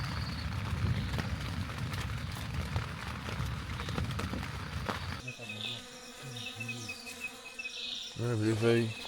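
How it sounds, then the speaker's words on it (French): Bees buzz in the early morning on Mont Nimba, a close swarm of wingbeat hums over rustling for several seconds, then a quieter stretch with a tonal drone and brief chirps as a voice begins. "Un réveil matinal avec les abeilles."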